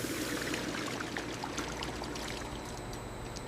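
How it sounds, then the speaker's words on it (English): Steady, continuous rush of flowing water during the cleaning stage of fat processing at a soap factory, a dense, even broadband pour holding level for the whole stretch with no talk over it. "Water flowing."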